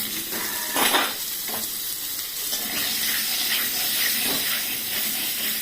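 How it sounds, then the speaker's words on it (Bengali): Pointed gourd (potol) fries in a pan with salt and turmeric, a loud close hiss and sizzle with bursts of spattering and stirring, no voices. "এই পটল ভাজতে ভাজতে আমি পটলের কি গুণাগুণ সেটা তোমাদের কাছে বলছি।"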